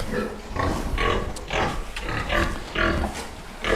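Pigs on a farm grunt repeatedly in close, loud, rhythmic bursts, several animals overlapping with short pauses between grunts.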